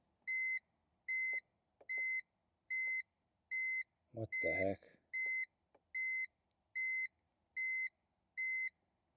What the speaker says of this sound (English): At least I get to listen to this nice beep the whole time.